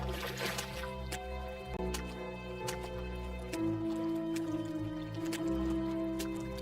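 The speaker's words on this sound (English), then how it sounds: "We're doing little splashes." Small water splashes and drips in the video game Pulmo, a busy run of soft wet plops and squishes over a steady low game hum, with no voices.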